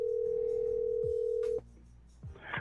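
A steady telephone tone sounds for about a second and a half as a call is placed, then cuts off to quiet line noise with faint clicks.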